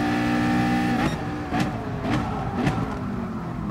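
A race car in a racing video game brakes hard. Its engine note drops sharply through several downshift blips, loud and close, with no one speaking.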